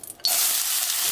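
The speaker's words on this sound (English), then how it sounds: "I know some of you guys like that sizzling sound of the onions." Chopped white onions hit a hot pan and burst into a loud, sustained sizzle that holds steadily after a brief quiet lead-in, cooking for vegan tacos.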